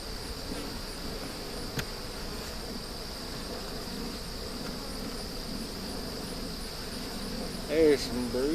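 Honey bees drone in a continuous, even buzz from an open beehive being worked for honey, steady and close throughout, with a brief handling noise near the end.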